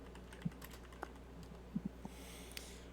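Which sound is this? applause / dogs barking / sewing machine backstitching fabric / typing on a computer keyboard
typing on a computer keyboard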